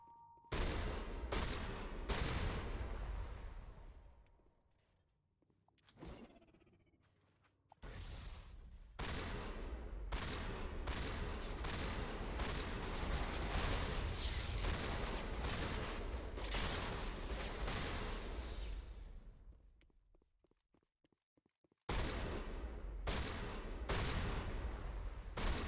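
Shotgun fire in the video game Mass Effect: Legendary Edition, loud, heavy repeated blasts in bursts with short gaps between volleys, set against a dense, noisy combat background.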